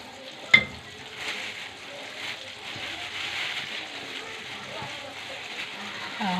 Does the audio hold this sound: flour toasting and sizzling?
yes